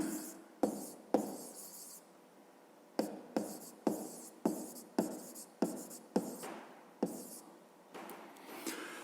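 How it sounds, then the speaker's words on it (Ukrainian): A pen scratches out a math solution by hand on paper, in a series of short strokes with sharp onsets separated by brief pauses, close and quiet with no talking. "Записуємо тоді розв'язання"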